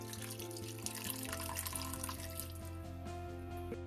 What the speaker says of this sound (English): I'll add little water to this to get to that medium consistency